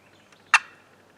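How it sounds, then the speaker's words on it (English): A single short, sharp turkey cluck from a call, loud and isolated in near silence. "And then there are clucks."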